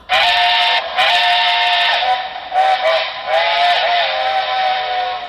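A steam whistle from a Broadway Limited model train sound decoder sounds loud and close in several sustained blasts with short breaks, its pitch bending as the whistle is played, with no talking.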